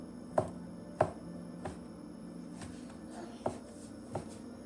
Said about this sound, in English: Get a mushroom and put it here and slice it